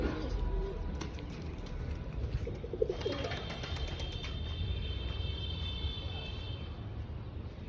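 Domestic pigeons coo softly in a loft amid steady background rumble and faint ambient noise, with low murmuring calls running throughout and no voices present.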